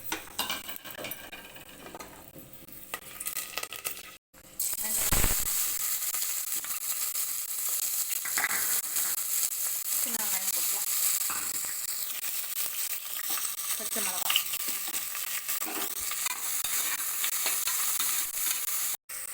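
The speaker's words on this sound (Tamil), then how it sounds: "குக்கர் சூடு ஏறினோடனே எண்ணெயை ஊற்றிக்கலாம் பிரிஞ்ச இலை பட்டை கிராம்பு ஏலக்காய் இந்த நாளும் சேர்த்துக்கலாம்" Bay leaf, cinnamon, cloves and cardamom fry in hot oil inside a pressure cooker for chicken soup, a steady close sizzle with scattered spoon scrapes, after a short clunk and brief gap near the start.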